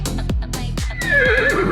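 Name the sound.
horse neighing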